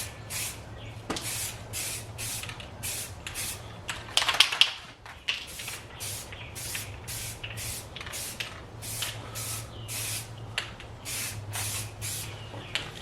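A spray paint can hisses in rapid repeated short bursts while repainting a Toyota Camry windshield wiper arm, the sharp hissing spurts close and evenly paced, with a brief rattling clatter midway.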